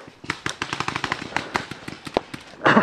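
Paintball guns fire in rapid irregular volleys of sharp pops, close and loud, ending in a louder burst.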